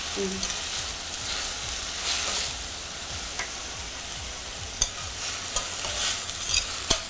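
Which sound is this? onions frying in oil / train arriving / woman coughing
onions frying in oil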